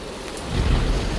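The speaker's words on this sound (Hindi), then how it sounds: "हे भगवान, यह तो बहुत जोर की बारिश आ गई।" Heavy rain pours down in a cartoon storm, a steady dense hiss, while a deep thunder rumble swells and holds loud through the second half.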